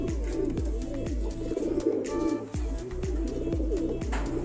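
Racing pigeons coo in soft repeated low calls at a derby race loft, close and rhythmic, with a few brief chirps over a faint background.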